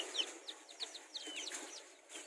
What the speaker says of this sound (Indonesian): jadi yang mau tahu ada ayam Arab kayak gimana, coba lihat di sini